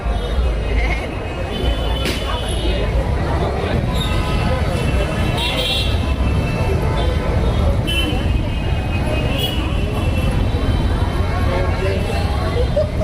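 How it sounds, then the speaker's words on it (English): A dense Christmas Eve 2023 crowd fills Park Street in Kolkata, a steady wash of many overlapping voices with traffic rumble and occasional horn toots all around. "And now we are on Parkstreet and you can see the crowd."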